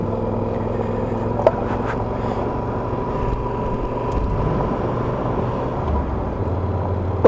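A motorcycle engine runs steadily and loud on a mountain road ride through the sierras, with a continuous drone as the rider shifts gears while standing. Brief clicks sit over the engine.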